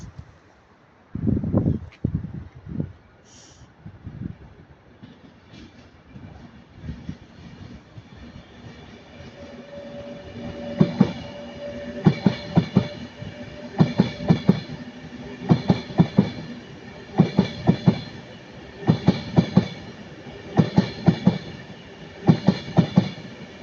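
Class 323 electric multiple unit 323-217, formerly of West Midlands Trains, passing at Heaton Norris with loud, rhythmic wheel clatter over rail joints that grows into a steady series of clacks, following a brief close thump at the start.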